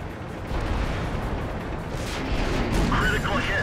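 Tank cannon fire in World of Tanks: a loud, rumbling sustained boom with crackling debris, washing over a constant low battle roar.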